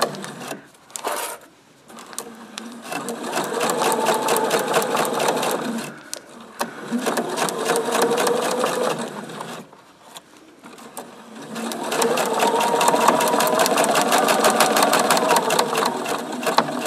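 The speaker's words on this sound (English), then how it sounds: "And then I'm going to take it to the sewing machine, still with my short stitch length, and stitch along this line." Close-up sewing machine stitching a quilt block edge to edge with a short stitch length, humming in several runs of fast even stitching separated by brief pauses.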